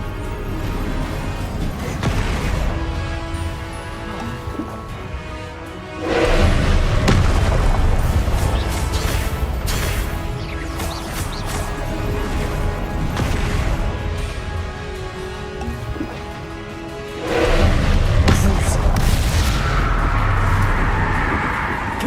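Confringo fire spells burst in Hogwarts Legacy during a magic duel. Two loud, booming explosions roll out about ten seconds apart over steady battle noise, heavy and close.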